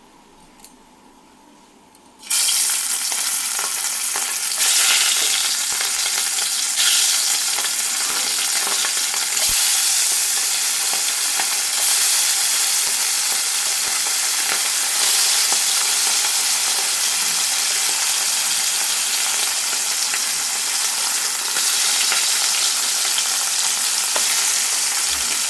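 Morola fish dropped into hot mustard oil in a wok set off a loud, steady sizzle that bursts in after a short quiet start and keeps crackling close up without pause.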